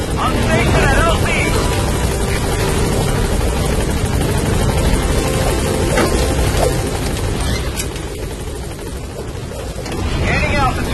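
The Pequod helicopter from Metal Gear Solid V lifts off in a steady, loud rotor roar with dense whooshing noise throughout, easing slightly near the end before swelling again; a radio voice speaks briefly over it.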